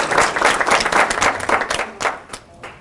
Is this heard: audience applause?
yes